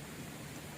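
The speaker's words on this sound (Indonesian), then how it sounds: "Cuaca mulai hujan nih." Rain begins falling outdoors, a brief, even wash of dense hiss, steady and moderately soft with no voices.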